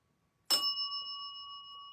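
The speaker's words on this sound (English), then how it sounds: "you have to hit the bell twice" A single bell struck once, a sharp metallic strike followed by a clear, ringing tone that sustains and slowly fades, close and alone in a quiet room.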